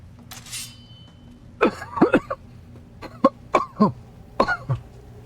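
A person coughs repeatedly from an irritated, rough throat in a run of harsh, separate bursts, some doubled, close and fairly loud against a quiet background. The coughs come after a brief sharp noise.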